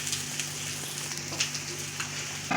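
Fried potatoes, cooked with a little salt and turmeric, go into a pot for bhuna khichuri and sizzle softly, a faint steady crackle of hot oil with scattered small pops throughout.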